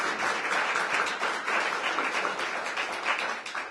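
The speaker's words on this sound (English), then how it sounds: "Give him a round of applause." Audience at a mayoral partnership launch event with Howard University breaks into a full round of applause, dense and sustained clapping from a large crowd, loud and continuous throughout.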